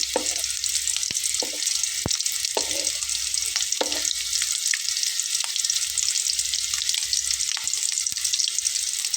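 Potato roll samosas frying in hot oil, a constant loud bubbling sizzle over nine seconds, broken by occasional knocks and scrapes as they are turned often, close by with no talk.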